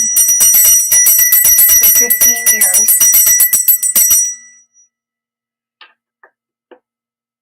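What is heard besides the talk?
dinner bell being rung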